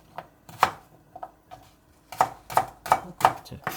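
A knife chops green onions on a cutting board in sharp, uneven strikes, close by, with a quick run of regular chops toward the end.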